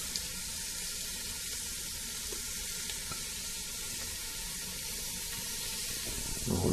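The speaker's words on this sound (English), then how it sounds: "We'll let that bacon crisp up real nice, let all that juice out." Bacon crisping in a pan over medium-high heat gives a steady, dense sizzle that holds evenly throughout, ending with a brief louder rustle or stir.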